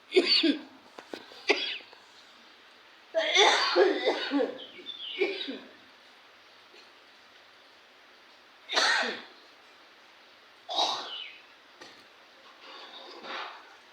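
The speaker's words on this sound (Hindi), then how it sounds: "बोलते बोलते खांसी आ जाती है, गला सूख जाता है" Several bursts of coughing from a person with a dry throat, harsh and close, separated by pauses of quiet, with a few shorter coughs near the end.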